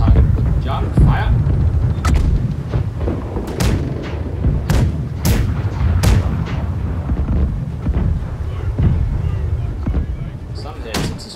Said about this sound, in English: Left side cannons target with junk. Fire.